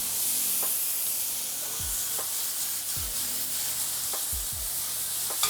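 Veggies and pico de gallo sear in a hot pan with a steady loud sizzle and hiss, broken by occasional stirring scrapes, close by and without talk.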